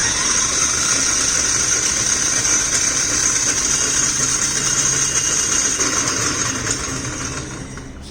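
A DC motor runs steadily on a regenerative braking test rig for an electric vehicle with a boost converter, giving a constant mechanical hum with a high whine and slight rattle that eases off near the end.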